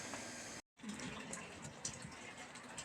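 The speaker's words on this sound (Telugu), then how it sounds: "ఇప్పుడు ట్యాంక్ ఆన్ అయింది, వాటర్ వస్తున్నాయి చూడండి" Water from a pump pours steadily into an overhead storage tank, a continuous rushing gush that fills the space and stays close and even, with one brief dropout near the start.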